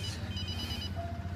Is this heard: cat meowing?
no